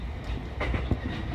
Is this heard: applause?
no